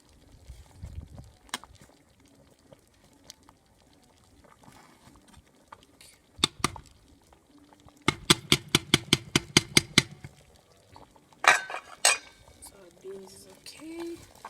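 A spoon stirs a pot of thick cooking brown beans, tapping and scraping the pot in a quick run of rhythmic knocks. Quieter clinks follow, with someone speaking in between.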